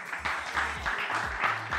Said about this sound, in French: Bien, on les applaudit, s'il vous plaît